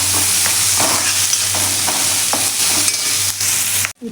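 Onions sautéing in oil in a pan for sukka mutton, a steady loud sizzle with stirring scrapes throughout, cutting off abruptly near the end.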